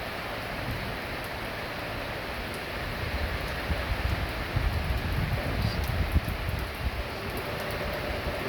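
Wind picks up during a thunderstorm, with steady outdoor rushing noise that swells into gusty, buffeting surges partway through.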